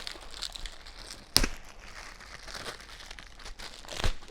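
Plastic wrapping being pulled off the seat of a Merits P-321 compact powerchair, heard as quiet, close crinkling and rustling with a sharp tearing snap partway through.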